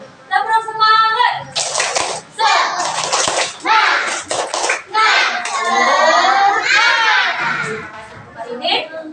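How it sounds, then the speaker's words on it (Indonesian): A group of primary school children doing a rhythmic spirit clap, bursts of clapping mixed with loud chanted voices in quick patterns, close and lively, with a single voice speaking at the start. "Tepuk semangat."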